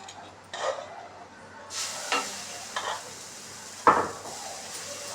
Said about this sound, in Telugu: ఈ దోశ పిండిలోనే ఉల్లిపాయ కూడా కట్ చేసి చిన్న చిన్న ముక్కలు కలిపేసి